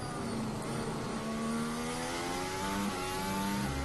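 Formula 1 cars at the Dutch Grand Prix in Zandvoort, a constant loud roar of high-revving engines with several cars passing close in succession, their pitch rising and falling.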